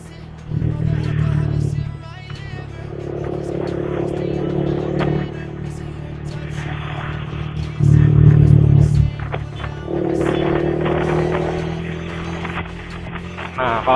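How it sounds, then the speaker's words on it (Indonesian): A Yamaha R15 V3 fitted with an R9 Misano exhaust is ridden gently, its engine note rising and easing in repeated swells over several seconds, with one louder, deeper burst partway through. "ini suara kalau misalkan kalian bawa motornya tuh kalem teman-teman"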